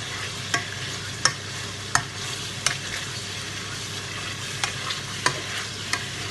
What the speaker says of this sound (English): Just continue mushing it while it's cooking until you get like a paste kind of.